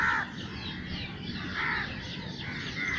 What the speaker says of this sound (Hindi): कौवा भी आ गया